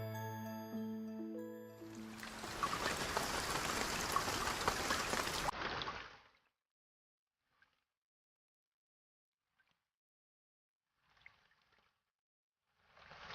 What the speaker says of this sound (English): It rained heavily the next day.